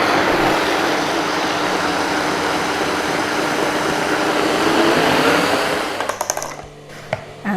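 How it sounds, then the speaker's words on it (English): A kitchen blender whirs loudly and steadily, pureeing a butter chicken sauce with a little water, then winds down near the end with a few clunks and rattles. "We'll blend it quickly."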